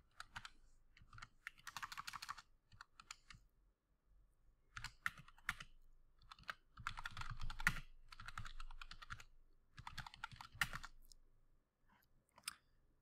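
Quiet computer keyboard typing a note, soft clustered keystroke bursts with short pauses between words, close and faint.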